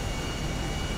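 Steady roaring drone of a smoking, damaged aircraft engine in GTA V Online, a continuous broadband rumble heard alone and close for about a second.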